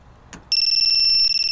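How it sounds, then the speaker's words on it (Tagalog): The two-way alarm on a Yamaha NMAX V2 scooter, fitted with a GPS tracker, bursts on after a brief click: a loud, pulsing electronic beeping tone that repeats rapidly and close by, with no voices over it. "Diyan lang mag-alarm."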